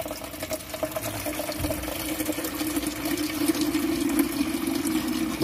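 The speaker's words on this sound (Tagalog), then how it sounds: "lagyan natin ng tubig" Water is poured steadily into a tray, giving a continuous, fairly loud liquid rush that builds slightly toward the end, with no talking.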